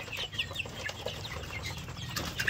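Chickens of an economical, low-feed breed cluck in a farm flock made up mostly of hens with a few roosters. The clucks come in steady, overlapping bursts at moderate distance, with no talking.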